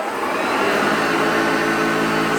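A 1970 Hoover Junior Dirtsearcher upright vacuum cleaner runs steadily at close range while sucking up cat litter from carpet, a loud constant motor whine with a broad rushing airflow.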